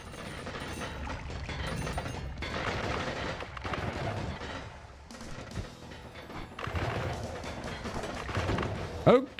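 Explosions from the video game Noita sound as dense, loud, continuous rumbling blasts and crackling bursts that fill the whole span with little pause, briefly easing midway.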